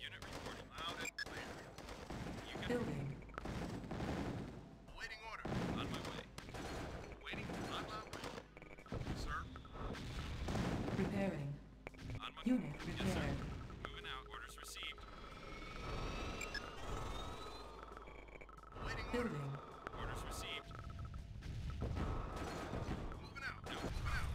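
Continuous battle noise from a real-time strategy game: dense bursts of gunfire and artillery blasts, with an aircraft-like drone, under intermittent short unit voice lines.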